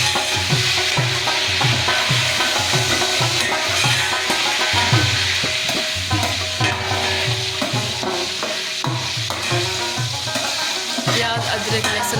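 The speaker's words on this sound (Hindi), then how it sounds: "प्याज अदरक लहसुन हमारा भुन रहा है" Chopped onion with ginger and garlic paste fries in oil in a pot. A loud, continuous sizzle runs throughout, with rhythmic stirring scrapes repeating close by.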